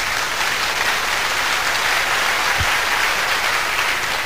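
Dense, loud applause from an audience at a preaching seminar sermon, continuous broadband clapping filling the whole stretch with one brief low thump partway through.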